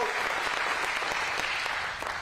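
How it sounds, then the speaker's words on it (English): Steady, dense applause fills the room at Governor Youngkin's bill signing in Roanoke as the audience honors the delegates, loud and continuous before tapering slightly at the end. "I just wanted to make sure that you all gave them one last round of applause."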